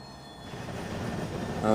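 Simulated Kakatiya Express train on Indian Railways in Trainz Android, rolling with a continuous low rumble that builds gradually, then a brief tonal horn-like burst near the end.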